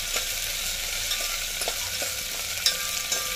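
Crushed ginger and garlic frying in a pan for a traditional Konkan yogurt kadhi, giving a steady close sizzle with a few soft stirring scrapes and taps.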